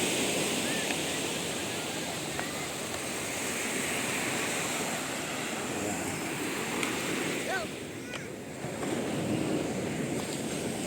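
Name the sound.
sea waves on the shore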